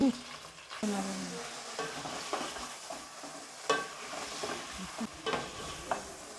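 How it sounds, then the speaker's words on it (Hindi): Half a kilo of washed chicken pieces frying and being stirred in a karahi until golden, a steady close sizzle broken by repeated scraping stirs and clatters, with no talking. "अब इसमें हम डालेंगे फिर इसको भुनेंगे गोल्डन होने तक"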